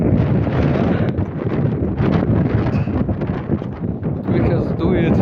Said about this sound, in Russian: О, ветер вообще сильный.